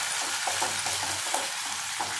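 Ginger garlic paste fries with a constant loud sizzle in a regular non-nonstick pan as it is stirred, with soft scraping strokes recurring under the hiss and no voices.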